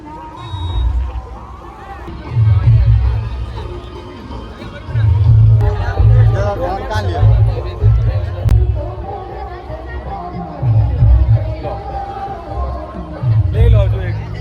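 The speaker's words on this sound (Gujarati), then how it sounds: "અહીંયા જો ભીડ કેટલી બધી છે" Dense crowd at a Navratri festival event in Kosamba, a continuous babble of many voices with traffic rumble and nearby people talking throughout.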